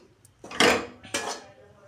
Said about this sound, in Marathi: छान असं परतून घ्यायचं आहे पिठाला।